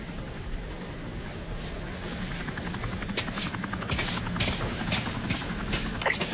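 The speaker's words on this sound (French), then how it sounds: "Et virez l'hélico." Helicopter hovering overhead during a hostage standoff in a French-dubbed film, a steady rotor drone with rising rhythmic chopping that grows louder across the clip, heard alone without talk.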